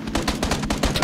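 Automatic gunfire in a video game, a fast, evenly spaced string of loud, close shots rattling off at roughly eight per second.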